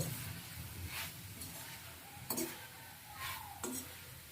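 Spicy pointed gourd with turmeric and salt is stirred and mixed in a pan, giving soft scraping and a faint sizzle, with a couple of sharp utensil clinks against the pan.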